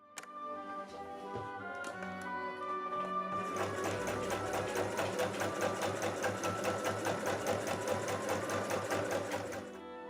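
A sewing machine starts up and runs steadily, top stitching a dress with glittery thread, its needle in a fast, even mechanical rhythm, close and continuous until it stops.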